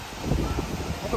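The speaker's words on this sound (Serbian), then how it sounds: "Mnogo jak vetar." Strong wind blows on a Hawaii beach, rumbling and buffeting against the microphone in a short, uneven gust.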